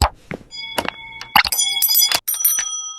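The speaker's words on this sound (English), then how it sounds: "rings a little brass bell to celebrate your win" A small brass bell in a call-center office rings in several bright, clear dings with lingering tones, mixed with a few clangs and knocks close by.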